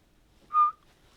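A single short whistled note from a person, clear and fairly close, rising briefly out of near silence and ending in a slight downward slide.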